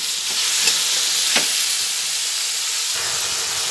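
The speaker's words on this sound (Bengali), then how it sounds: "সবজিগুলো 5 মিনিট মতো ভালোভাবে ভেজে নিচ্ছি।" Winter vegetables frying in a pan with salt before cooked red lentil dal is added: a steady, close sizzle and hiss, with a couple of faint stirring scrapes and no talk.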